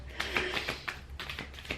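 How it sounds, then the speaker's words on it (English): Tarot cards being shuffled at length, a run of soft papery riffles and taps close by with no talk over them. "is this the longest shuffle in the world?"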